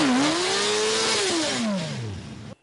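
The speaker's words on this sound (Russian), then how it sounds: "Рев мотоциклов слышен по всей столице" Motorcycles roar past during a bikers' parade in the capital, a loud engine note rising then falling in pitch as it passes by and fades, ending abruptly.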